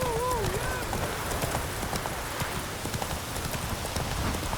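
Horse hooves clip-clop at a quick racing pace in The Witcher 3 during a mounted fight against a rider, a steady patter running under game music and ambience with a voice briefly at the start.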